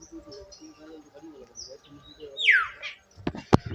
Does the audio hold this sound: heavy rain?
no